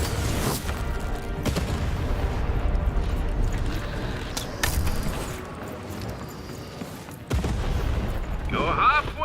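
Cannon blasts in a video game come as dense, rumbling booms and crackling explosive bursts that run almost continuously and loudly, with a sharper impact near the end and talk mixed underneath.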